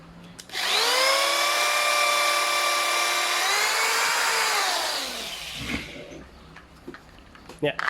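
A power drill spins up and bores through existing holes in a Canon printer. A loud, steady high whine holds for several seconds, drops briefly in pitch, then winds down into quieter handling noise.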